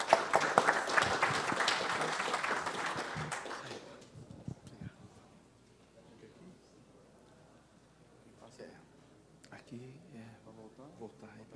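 Audience applause for a presenter from the Rio Dourado sugarcane mill at a corporate talk, loud and dense for about four seconds, then fading into a quiet room with faint shuffling.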